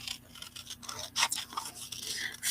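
Scissors cutting out a small paper piece, a quiet close-up series of crisp snipping and rustling strokes in quick succession.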